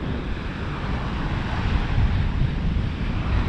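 Ocean waves wash in on the shore, a dense continuous rushing surge that swells louder toward the end, mixed with wind buffeting the microphone and no talking.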